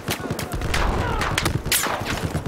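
Gunfire in the Battlefield 4 video game, a dense run of sharp shots and thuds with repeated bursts across the whole clip, loud and busy, with some voice chatter mixed in.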